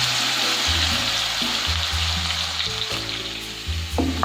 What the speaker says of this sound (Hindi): इसमें मैंने अदरक लहसुन पेस्ट लिया है 1 टेबल स्पून, वो डालूंगी